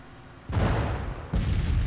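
Civil War artillery in Grand Tactician: The Civil War at Winchester, two deep booming cannon reports nearly a second apart, each with a heavy rumbling tail.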